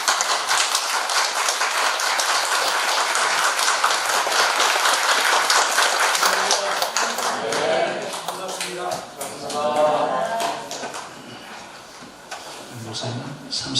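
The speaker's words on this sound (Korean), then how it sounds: "우리 목사님 환영하는 박수 한번 하시죠" A church congregation claps in welcome for a visiting retired missionary pastor from São Paulo, Brazil, a dense, loud wash of hands that later thins into scattered clapping while talk comes through.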